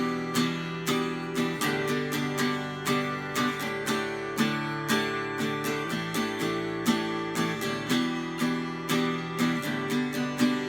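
Acoustic guitar plays a song's chords with a busier syncopated strumming pattern, four chords with crisp, uneven accented strokes, close and steady, unaccompanied by speech.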